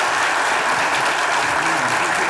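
A studio audience at a Turkish comedy sketch show breaks into loud, dense applause, a continuous wall of clapping from start to finish with no speech over it.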